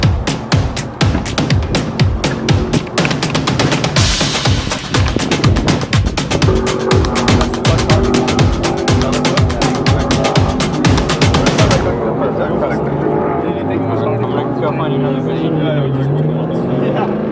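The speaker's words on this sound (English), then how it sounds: "Driving Lamborghini race car." A Lamborghini race car at speed, its engine roaring in rapid pulsing gear-driven bursts up close, then dropping to a lower rumble with people talking over it.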